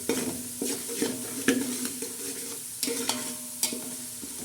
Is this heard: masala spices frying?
yes